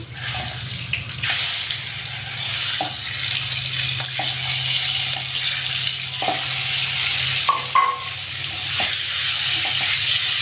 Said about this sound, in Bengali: তো নেড়ে ছেড়ে ভেজে নিতে হবে